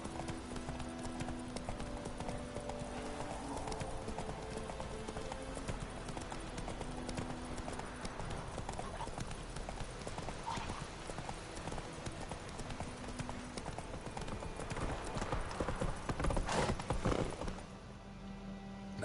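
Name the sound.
horse galloping in video game The Witcher 3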